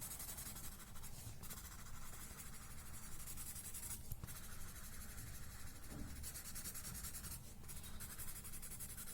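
Graphite pencil rubbing and shading across paper while drawing a Zentangle pattern, a soft continuous scratchy hiss with a few brief louder strokes, close and steady with no talking.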